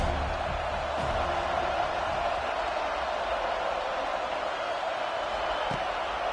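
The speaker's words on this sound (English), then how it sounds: "This crowd trying to make life miserable for this offense." Crowd noise in the NCAA 26 football video game, a steady loud roar of stadium spectators filling the background throughout with little variation.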